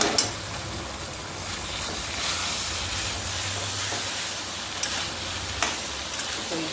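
Taro leaves (kochu shak) being stirred and dried out in a hot pan, giving a continuous close hissing sizzle with a few sharp scrape clicks from the utensil, and no talking.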